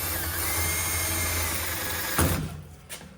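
A power drill bores out the head of a huck rivet on a Peterbilt 359 truck panel, whirring steadily up close before cutting off abruptly, followed by a couple of short metallic knocks.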